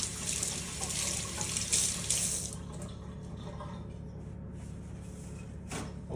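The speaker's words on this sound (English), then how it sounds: "Now I'm gonna do a quick hand wash." Tap water runs into a sink for a hand wash, pouring loudly and steadily at first, then settling into a softer trickle with a brief louder splash near the end.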